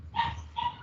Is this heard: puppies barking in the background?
yes